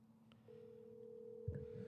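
Outgoing telephone call ringing on the line: a single steady ringback tone begins after a brief pause and holds evenly, fairly faint, with a burst of handling noise near the end.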